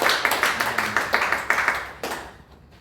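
Congregation at a Korean church union worship service claps, a burst of distinct, fairly close claps in an irregular rhythm that thins out and fades after about two seconds.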